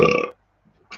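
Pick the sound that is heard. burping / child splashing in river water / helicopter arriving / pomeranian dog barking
burping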